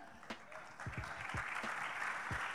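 A conference audience applauds in a faint, distant patter of many hands that builds slightly and carries on steadily to the end.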